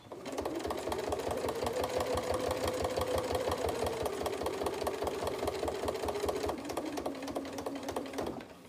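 A sewing machine stitches slowly through thick layers of fabric on a trapunto cushion, its motor humming under a rapid, even mechanical thumping that runs continuously, with a slight drop in pitch near the end.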